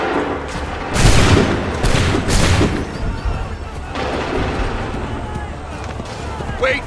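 Musket volley fire in the video game Assassin's Creed 3: loud bursts of massed gunfire crackle out around the first and third seconds, then trail into a rumbling battlefield din, with voices audible throughout.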